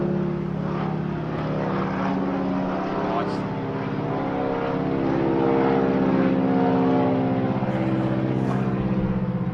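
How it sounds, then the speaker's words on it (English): A propeller aircraft drones steadily nearby, its engine hum rising slightly as it powers up, with voices talking over it. "there's a big plane coming out"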